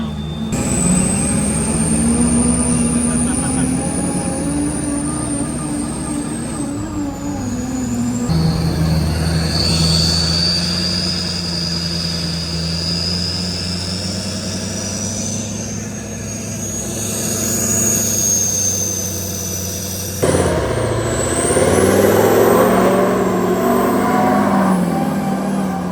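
World's largest truck with a twin transmission driving, a loud droning engine and whining drivetrain that drop and rise again as gears shift, with a brief voice in between.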